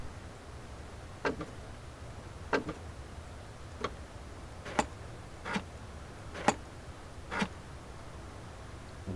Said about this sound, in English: you'll notice the fuel selector here on the floor, and just listen.